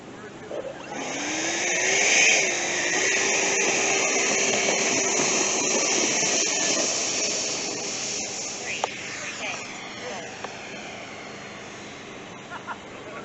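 Flex Innovations F-100D RC jet, run on 6S 5200 mAh power, taking off with half flaps: a steady high-pitched electric ducted-fan whine and hiss that holds for most of the run, then fades as the jet climbs away.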